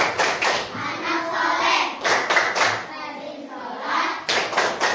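Children clap and chant together in a steady rhythm, their voices and hand claps mixed closely, with brief pauses between phrases.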